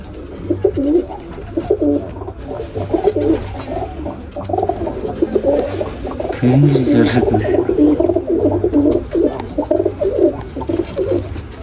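Pigeons coo repeatedly at close range in a pigeon loft while a chick pecks, the soft cooing continuing throughout with some faint rustling and tapping.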